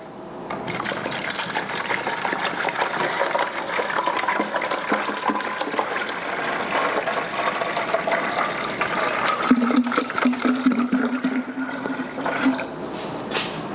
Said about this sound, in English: I'm going to go ahead and just pour the bottled water in there.